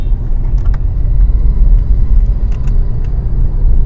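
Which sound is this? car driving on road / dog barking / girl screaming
car driving on road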